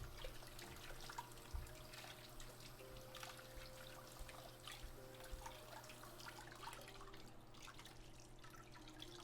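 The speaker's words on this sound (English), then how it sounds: "Gotta rinse my cloth out" Water runs softly from a kitchen tap as a cloth is rinsed in the sink, a faint, steady trickle with small drips throughout and no talking.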